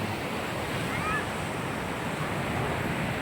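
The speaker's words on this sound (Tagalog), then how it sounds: "Sarap talaga rito sa dagat." Sea waves rolling onto a beach at Botolan, Zambales, a steady, broad hiss and roar of surf with some wind buffeting the microphone, continuous and even throughout with no clear speech.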